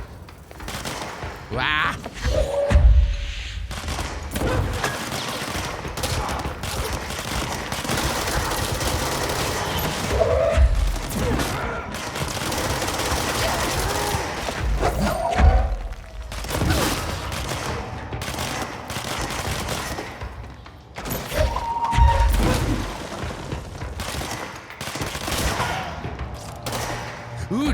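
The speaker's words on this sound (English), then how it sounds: "I do like this gun for doing the run and gun, right? Because you're moving and shooting." Gunfire rattles from a gun in the video game Control while the player runs and jumps, with dense, rapid bursts and heavy thumps repeating throughout. Someone talks over the shooting and lets out a short exclamation.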